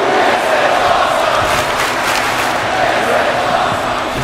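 A virtual wrestling match crowd cheers and roars continuously, a dense loud wash of voices swelling and surging throughout.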